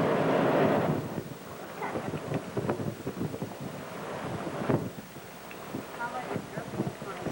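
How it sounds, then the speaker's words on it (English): Outdoor wind gusting and rushing across the microphone, strongest in the first second and then steady, with bursts of background speech woven through it. "the wind comes through here"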